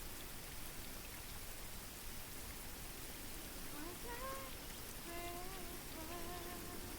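Steady, soft rain hiss patters in a VR fishing game by a lake, a faint even wash of noise with a few thin whistling tones drifting in toward the end.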